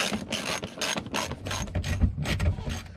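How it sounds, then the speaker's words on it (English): A ratchet clicks steadily in rapid repeated strokes while undoing 8mm bolts on the underside of a 2017 Mazda 2 during a headlight upgrade, close and clear with no talk. "from the bottom there would be a few 8mm bolts that you need to remove also"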